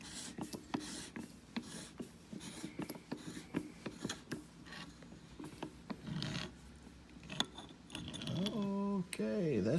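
A socket wrench being worked onto the hex head of the low-pressure CNG filter housing on a 2006-2015 Honda Civic GX, giving close, irregular ratcheting clicks and metallic scrapes with brief faint talk near the end.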